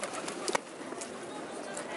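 Pigeons or doves calling in an outdoor street setting in Florence, Italy, a brief coo standing out over steady ambient background noise with some voices nearby.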